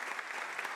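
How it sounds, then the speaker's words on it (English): Steady audience applause at a music academy event, dense and continuous clapping from a crowd throughout the short moment. "Please give him a round of applause"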